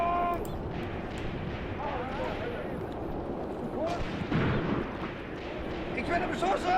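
Artillery and gunfire in the Graviteam Tactics Mius Front World War II battle game: dull booms and rumbling blasts over continuous battle noise, with shouted voices mixed in.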